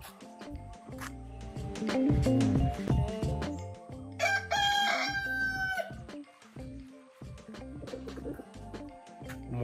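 A rooster crows loudly nearby in a long drawn-out call, surrounded by clucking and other farmyard fowl noises, at a farm in the Coorg hills.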